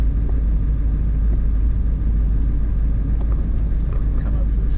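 A Ford F250 with a 7.3 Powerstroke diesel engine drives along with a steady, heavy low rumble throughout, continuous and close from inside the cab.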